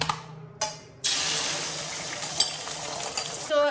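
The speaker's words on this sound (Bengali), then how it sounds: "ডিম ভাজা করবো, আর এদিকে ভাতটাগুলো গরম করবো।" Two short sizzling bursts give way to the steady, loud hiss of an egg frying in a hot pan. A metallic clatter follows at the very end.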